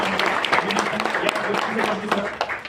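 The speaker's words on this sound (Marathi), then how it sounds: "सर्वांनी टाळ्या वाजवून साहेबांचं" Steady applause from a crowd at a municipal public meeting, dense clapping that keeps going throughout without a pause, with a voice faintly audible beneath it.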